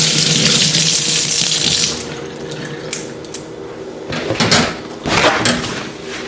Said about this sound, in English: wash your hands before you start any cooking